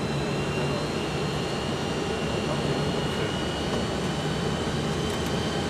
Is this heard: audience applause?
no